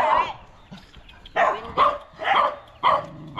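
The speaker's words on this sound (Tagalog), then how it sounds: "May aso, daming aso." Several dogs bark in short loud bursts close by, a single yelp followed by a run of four or five barks in uneven rhythm.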